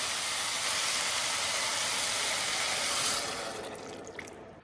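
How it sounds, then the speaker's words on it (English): Water pours steadily into a crock pot as part of soup preparation, a broad continuous splashing rush heard alone that tapers off toward the end. "And I'm actually gonna add some water to this."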